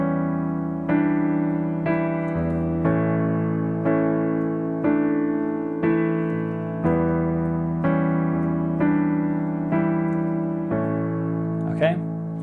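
Solo piano playing the pre-chorus melody of a song, with steady chord strikes roughly every second over a sustained, ringing bass, close and clear with no voices.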